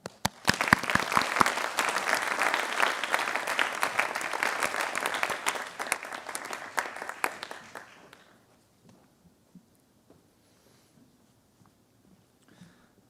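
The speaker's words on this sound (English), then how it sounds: "A round of applause for all of you." Applause for a graduating class at a valedictory ceremony: dense, steady clapping from a large crowd for about eight seconds, then fading abruptly into near silence with a few scattered claps.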